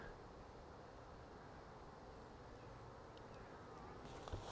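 A steady, faint drone of honey bees buzzing around frames in a hive being inspected for a missing queen, with a few soft knocks and handling sounds near the end and no speech.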